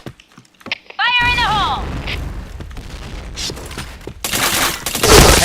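Video game gunfire erupts in a loud burst of rapid shots after a sweeping electronic tone, followed by scattered reports and a final heavy volley, with players talking over the action.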